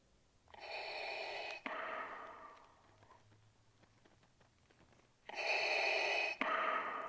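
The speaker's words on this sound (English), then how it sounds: "that's where the breathing sound comes from my Vader" Darth Vader breathing effect played from a small speaker and MP3 player in a 3D-printed costume chest box: two loud mechanical breath cycles, an inhale then an exhale, separated by a quiet pause.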